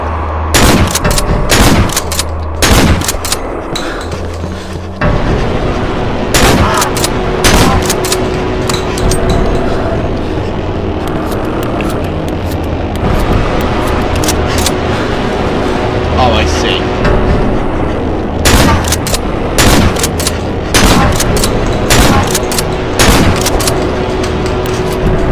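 Shotgun blasts crack out in Cry of Fear, loud and close, in quick clusters at the start and again near the end over a steady gritty game backdrop, with someone talking now and then.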